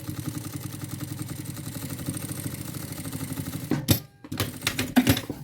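An embroidery machine sews a seam on a necessaire box with a handle, giving a fast, steady mechanical chatter that runs without pause for about four seconds, then stops and restarts for short bursts.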